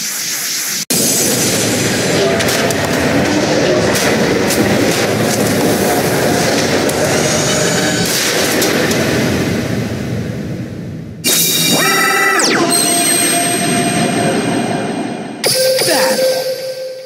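Barrel Dragon summon and attack effects from Yu-Gi-Oh! Duel Links: a loud, dense mechanical rumble with clattering bursts, cut by abrupt shifts to sharp whooshing, squealing blasts near the end.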